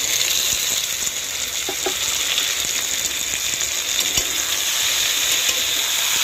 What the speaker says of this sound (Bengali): এরপর আমি এক এক করে সব ভেজে রাখা সবজিগুলো ছেড়ে দেবো